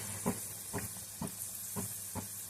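Sambar vadi fries in a pan over a low flame, a constant soft hissing sizzle broken by gentle bubbling bursts about every half second, close and quiet, with no talking.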